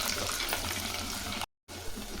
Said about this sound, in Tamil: இது மிதமான தீயில் வதக்கிங்க.